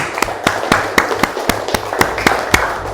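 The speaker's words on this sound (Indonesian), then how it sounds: "Oke, tepuk tangan untuk Cindy." Brisk rhythmic hand clapping from a classroom of students applauding a classmate named Cindy, sharp claps repeating at an even pace over a faint murmur.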